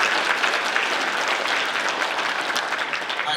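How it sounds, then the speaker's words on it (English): Steady, dense applause from a crowd clapping for coaches at a high school basketball awards ceremony, even in level throughout with no voices on top. "clap it up for all the coaches and all the people."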